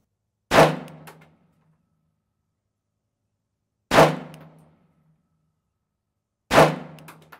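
A pistol fires three single sharp shots at a target on a range, each a loud crack with a short ringing tail, spaced about three seconds apart with silence between.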